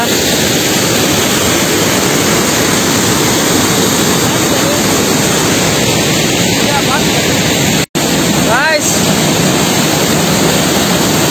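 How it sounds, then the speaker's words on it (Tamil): A nearby waterfall gives off a loud, steady rushing roar that fills the scene, with faint voices in the background and one brief sharp dropout partway through. "அருவி கொஞ்சம் க்ளோஸா இருக்கும்."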